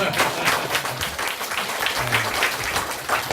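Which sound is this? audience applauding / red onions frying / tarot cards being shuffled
audience applauding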